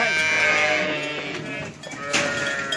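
Sheep bleat loudly and close by in a barn fitted with a vaccination race, several overlapping calls with a brief lull before another bleat near the end.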